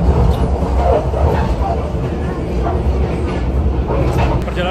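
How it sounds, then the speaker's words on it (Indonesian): Inside the new Jaka Tingkir economy-class passenger train in Central Java, a loud continuous rumble of the carriage rolling on rails fills the space, with faint murmuring voices beneath it. "Perjalanan kereta api Jakatingkir sekarang tiba di stasiun Kebumen, Jawa Tengah, teman-teman."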